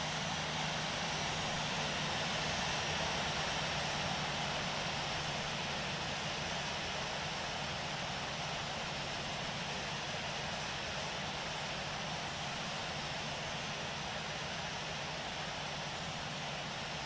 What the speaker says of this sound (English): Thai 650 is taking off runway 25 right